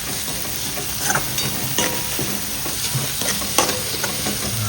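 A spoon scrapes and stirs through sizzling spices and fenugreek leaves in a hot pan for Gujarati brinjal olo, with a close, continuous crackle of frying and irregular scraping strokes and no talking.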